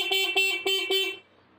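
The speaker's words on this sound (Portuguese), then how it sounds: "Tem buzina." A 1990 Piaggio Vespa PX 200 scooter's small horn beeps four times in quick, uneven succession, close and loud, then cuts off.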